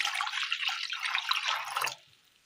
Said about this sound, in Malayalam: അടുപ്പത്തൊരു ചട്ടി വെച്ച് കൊടുത്ത് അല്പം വെള്ളം ഒഴിച്ചു കൊടുക്കാം